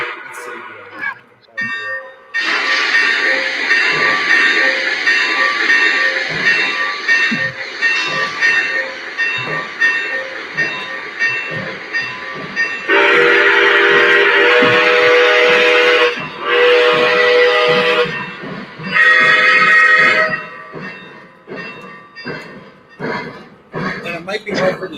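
Model steam locomotives on a Milwaukee Road layout, two engines double-heading, chuff steadily under loud whistle blasts and continuous talk, the exhaust beat faint and buried beneath the voices and whistles.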